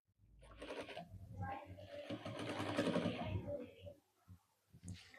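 A sewing machine stitches a ladies' coat, a close steady mechanical whirr lasting a few seconds before stopping, with a faint voice and a couple of soft knocks afterward.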